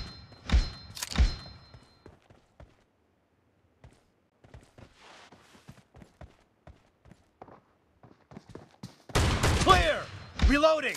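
Gunfire in the PUBG Mobile video game comes in short bursts of sharp shots early on, then sparse thumps and footstep-like taps, ending with a loud dense volley, while a voice speaks briefly.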